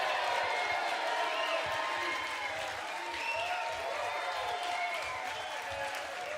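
Audience applause with scattered cheers and whoops for a singer-songwriter at a live music event, a steady dense wash of clapping sustained throughout.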